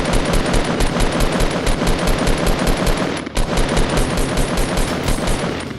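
Loud, rapid automatic gunfire in the video game Fortnite Battle Royale rattles almost continuously, with one brief pause midway before the bursts resume.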